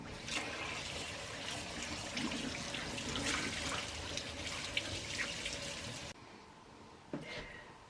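Muskrat and fisher pelts being rinsed in water after soaking in salt water, a steady close splashing and sloshing for about six seconds, then quieter drips and a faint knock.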